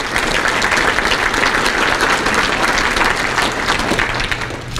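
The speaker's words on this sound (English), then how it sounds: "Let's give them a round of applause." Crowd at a Prince George's County economic forum gives a loud, dense round of applause for the County Council, steady throughout and easing off slightly near the end.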